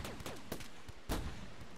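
Gunfire in the video game RimWorld: a rapid fusillade of sharp shots, several cracks in quick succession followed by a louder burst, fairly close and with no talk.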